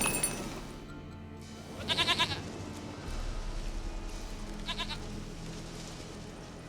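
A goat in The Witcher 3: Wild Hunt gives two short, wavering bleats a few seconds apart over a quiet outdoor game ambience with faint rumbling.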